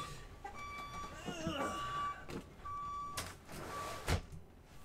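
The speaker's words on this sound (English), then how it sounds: "I guess certain vans have obnoxious horns on them. Or backup noises." A van's backup beeper sounds outside in a few spaced tones, fairly faint behind indoor noise and a person talking.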